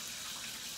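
Water from a kitchen tap runs steadily over canned vegetables being rinsed, a soft continuous splashing hiss with no talk.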